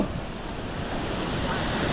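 Sea waves wash in and out on a Konkan shore, a continuous broadband surge and hiss with gentle swells, fairly close and moderately loud with wind noise mixed in.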